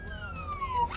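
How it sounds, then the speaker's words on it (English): A police car siren wails with a descending tone against a steady background rumble, fairly loud and brief. "if you do three, that's the siren"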